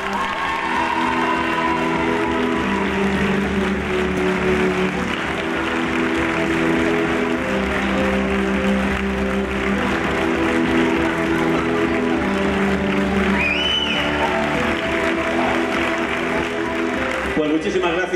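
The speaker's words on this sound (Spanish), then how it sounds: "muchísimas gracias por esos aplausos hacia nuestras candidatas" Audience applause for queen and lady candidates at the Guardamar 2022 pageant election, a steady wash of clapping under music and an announcer's voice throughout.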